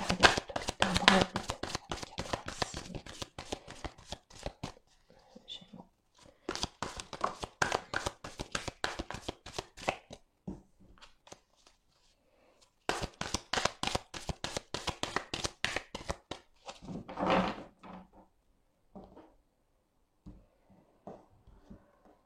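Tarot cards being shuffled by hand for a Gemini reading, quick bursts of riffling and flicking that stop and start, with a voice talking between and over them.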